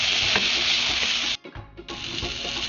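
Garlic, onion and tomato sautéing in a pan for ginisang pechay produce a loud, close sizzle with spatula stirring and scraping, cut by a brief pause midway before frying resumes.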